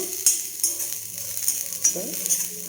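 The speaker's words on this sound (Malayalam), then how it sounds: "കുറച്ച് തേങ്ങ വറക്കാൻ വെച്ചിട്ടുണ്ട്." Grated coconut roasts in a pan with a soft, steady sizzle, broken by a few scattered scrapes and clinks of a utensil stirring, heard up close.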